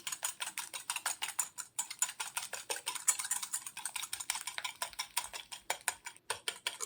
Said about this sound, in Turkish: Şimdi yumurtamızın üzerine bir çay bardağı şekerimizi ilave ediyoruz ve şöyle çırpıyoruz